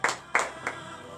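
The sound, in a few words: congregation applauding and clapping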